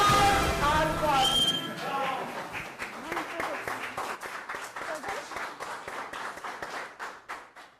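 Warm audience applause on a televised game show, starting right after a loud burst of mixed voices and noise, then settling into a steady wash of clapping that runs to the end.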